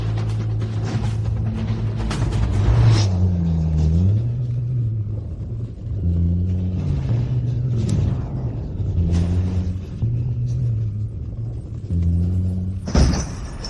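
A car engine rumbles steadily at close range, a low droning hum that shifts pitch several times as it revs, ending with a sharp louder clunk.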